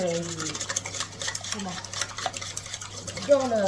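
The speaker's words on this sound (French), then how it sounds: "je mélange les petits œufs" Eggs being mixed for an apple cinnamon cake batter make a brisk, continuous stirring and scraping in a bowl, close and steady, while a voice talks over it.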